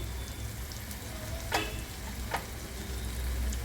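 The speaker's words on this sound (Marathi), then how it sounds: "बघा हे मसाला आपण थोडा भाजून घ्यायचा" Masala spices roasting in a pan give a steady, soft sizzle with two brief sharper crackles partway through, alone with no voices.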